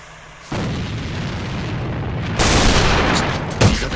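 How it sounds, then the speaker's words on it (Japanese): A grenade goes off in the online shooter game AVA: a sudden heavy boom, then a second louder blast, each with a rumbling tail and a short crack near the end. "手榴弾投擲。"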